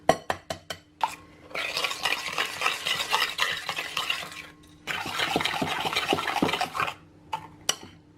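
Sweetener and an egg being stirred in a bowl, giving a run of quick clinking taps followed by two long stretches of steady scraping whisking, close and fairly loud, with no talking.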